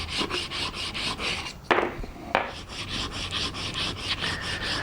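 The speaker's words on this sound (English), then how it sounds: "If I put any pressure to the handle, it's just going to lift up as I'm trying to grind it back and forth" The back of a Japanese chisel is ground on a sharpening stone in steady, rhythmic back-and-forth rasping strokes, close and continuous, with a short pause midway.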